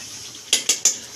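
Three quick metal clinks of a spoon against a pot while spinach paste is stirred into chicken korma, close and crisp over a faint background hiss.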